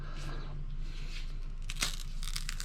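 A small ladyfinger banana is peeled by hand, giving soft tearing and crinkling close by, with a low background hum and one slightly louder rip near the end.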